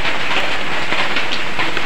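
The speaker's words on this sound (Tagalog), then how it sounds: "Ayan o, ulan o, ulan." Steady, loud hiss of rain pouring down beside the seashore in Caraga, Philippines, a dense continuous wash with no voices.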